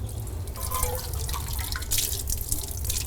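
Running water rinses a steel kitchen article after scrubbing, a steady close hiss and patter of flowing and dripping water over a low rumble, continuous throughout.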